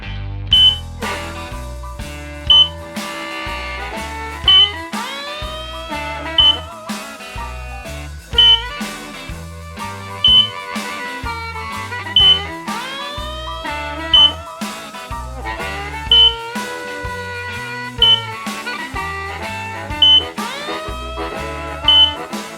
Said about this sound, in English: Enjoy your blues smoke detector.